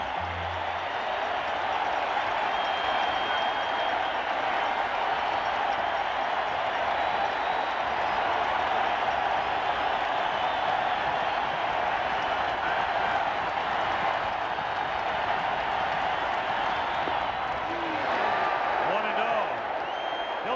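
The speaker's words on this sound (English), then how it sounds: "And the crowd rising as one as Downing gets ready to stand in." Steady roar of a baseball stadium crowd cheering and applauding at the 1986 ALCS Game 5, Red Sox at Angels, a dense wash of noise throughout with a commentator talking over it.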